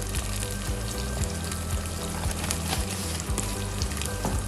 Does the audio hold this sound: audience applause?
no